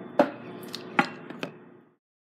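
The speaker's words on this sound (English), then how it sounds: "I'm going to go across all these and cut them down." A knife chops cucumbers on a cutting board for conch salad, giving four sharp, close cuts spaced irregularly over about two seconds, with nobody talking.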